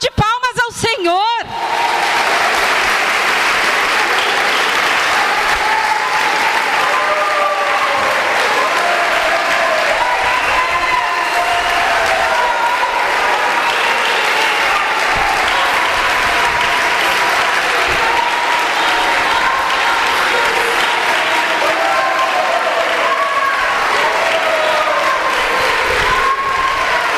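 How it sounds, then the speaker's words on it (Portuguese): During a church service a large congregation breaks into loud, sustained applause mixed with cheers, shouts and whoops. Voices rise over the clapping throughout, and a brief musical tone sounds right at the start. "uma salva de palmas ao Senhor."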